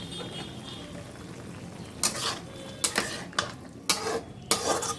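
Fish curry sautéing in a pan after tomato is poured in, a steady low sizzle broken by several loud bursts of stirring and scraping toward the end.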